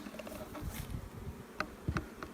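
Honey bees buzz around an open hive with frames of feed in spring. The hum is soft and close, with the pitch shifting as single bees fly past the microphone.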